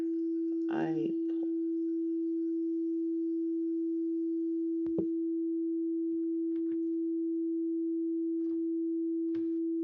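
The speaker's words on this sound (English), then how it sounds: "220 hertz, so that's A. And then the E above it, 330." A steady pure tone of two pitches, A at 220 Hz and E at 330 Hz forming a perfect fifth, drones throughout, with a faint brief murmur early on and a few soft clicks.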